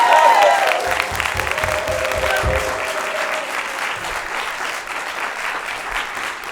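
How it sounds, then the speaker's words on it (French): A studio audience at a French comedy show breaks into applause, loud at the start and then settling into a steady, sustained clapping that runs the whole time with a faint murmur of voices mixed in. "veuillez faire un tonnerre d'applaudissements pour ma maman"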